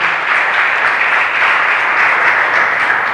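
Steady, full applause from a church congregation fills the room at an even level, a dense continuous patter with no talk over it.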